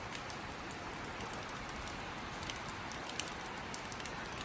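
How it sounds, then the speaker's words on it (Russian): Steady rain falling in a garden, a dense even hiss of drops with scattered sharper patters close by, no voices. "и опять дождик."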